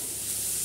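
Thinly sliced potatoes and onion frying together in a pan, a brief, steady close-up sizzle with no talking.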